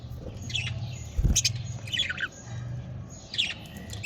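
Caged budgerigars give harsh squawks and chattering calls in several bursts over a low steady hum, fairly close and moderately loud.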